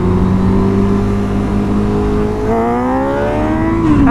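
A Honda CB650R motorcycle accelerates hard, its engine note rising steadily in pitch through the revs, loud and close throughout.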